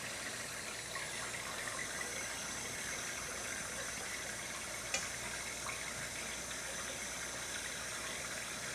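Kitchen tap water runs steadily into a sink while salt mackerel is washed, a faint continuous splashing stream with one small clink partway through and no talking.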